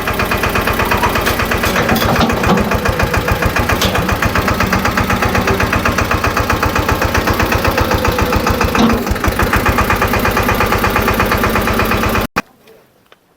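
A tractor's loader engine runs steadily and loudly while lifting a trolley up and down to tip its load into a cart, a continuous close mechanical drone that stops abruptly near the end.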